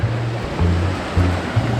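Steady rushing water from a mountain stream and waterfall on Adam's Peak in Sri Lanka, a broad continuous roar with a low rumble underneath, no speech.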